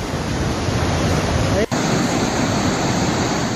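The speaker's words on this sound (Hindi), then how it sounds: "बादल फटने से मानो पानी का उफान तेज बहाव में बह रहा है" Floodwater after a cloudburst roars down the Anjani Mahadev stream in Solang Nala, a loud continuous rushing torrent with a brief dropout midway, filling the scene without talk.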